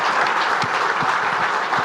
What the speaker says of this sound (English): How about a round of applause for our wonderful panelists?